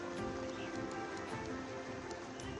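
Steady rain pours over Delhi, a dense, even hiss of drops hitting surfaces that fills the whole stretch without pause or voices.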